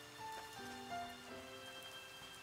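Steady rain falls in the farming game Harvestella, a soft constant patter mixed with faint ticking drops and light game music tones, with no talking.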